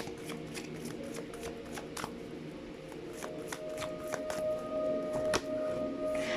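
Tarot cards are shuffled close by, a rapid run of crisp riffling snaps and soft slides that repeats in uneven bursts over a faint steady tone.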